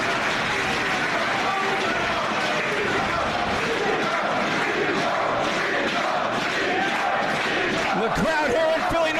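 A wrestling crowd in Philadelphia at a 2009 Dragon Gate USA show roars continuously, a loud dense wall of cheering and shouting with rhythmic swells, while a commentator's voice runs underneath.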